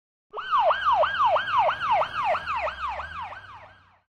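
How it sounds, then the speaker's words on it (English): A police car siren whoops in fast repeating rising wails, loud and steady, then fades at the end. "Police car."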